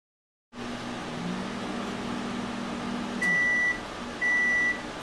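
Microwave oven running while cooking a gluten-free chocolate mug cake, a steady close hum with a low drone, followed by two separate high electronic beeps near the end.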